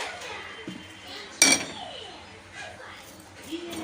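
A spoon stirs tomato puree in a cooking pan, giving one sharp metallic clink against the pan and soft scraping over a faint kitchen background.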